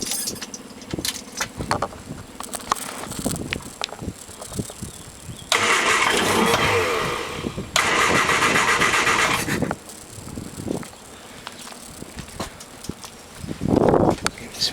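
A 1973 MG Midget engine is cranked after sitting for 15 years, with bursts of starter churning and brief rough catches, loud and close, separated by quieter pauses and clicks.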